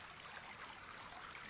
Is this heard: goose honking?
no